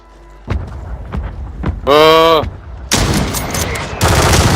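Gunfire from the video game Call of Duty Warzone: loud, close sniper-style shots and bursts crack through a live match, with a synthetic tonal effect in between and brief excited talk near the start.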